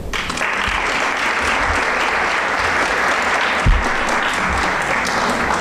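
An audience at a Women's Day commemoration held by the judiciary welcomes a speaker with strong, sustained applause. The hall is full of many hands clapping at an even level, with one brief thump partway through.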